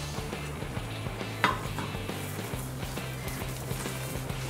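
Puran poli frying with ghee on a hot griddle gives a low, steady sizzle with faint scraping and one brief clink, quiet and close with no talk.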